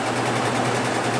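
A 1996 Maytag Dependable Care Plus washer spins fast on a quick cycle with a nearly empty drum, giving a steady, dense whirring hum that holds even for the moment.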